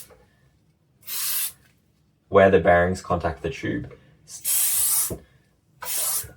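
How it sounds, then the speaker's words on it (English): Silicone spray hisses from an aerosol can onto the outside of an aluminium box tube in three short bursts, the first alone and the last two following a stretch of close, clear talk. "I'm using just silicone spray, and I'm going to spray it on the outside"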